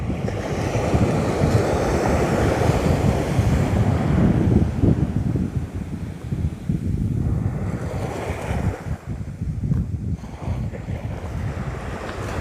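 Ocean waves crash in over a reef on an Australian beach, a loud, continuous surf roar with gusty wind buffeting the microphone and a brief lull near the end.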